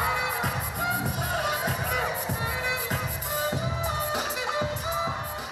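At a Division III county pom dance championship, a pumped-up crowd cheers and shouts steadily over rhythmic, pulsing music with regular beats throughout.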